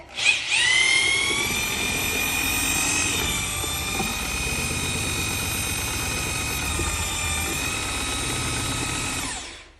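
A power drill with a mixing paddle churns drywall compound in a bucket, whining loudly and steadily for nearly ten seconds with slight shifts in pitch as the paddle moves, then spinning down at the end.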